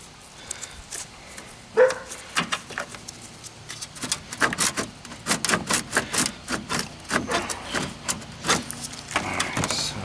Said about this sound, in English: What's with all the dogs?